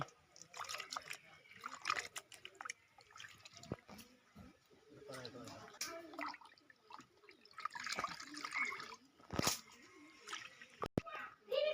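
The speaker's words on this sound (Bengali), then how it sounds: "মাংসগুলো সব ধুয়ে নিচ্ছি।" Cut chicken meat is washed by hand in water, with intermittent splashing, trickling and dripping close by, and a voice speaking now and then over it.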